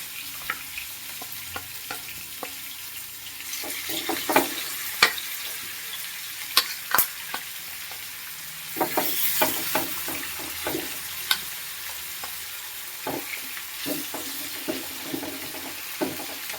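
Chicken pieces fry in a covered pan with a low, steady sizzle, broken by scattered sharp clatters and scraping knocks of stirring and utensils, close by, with no talking.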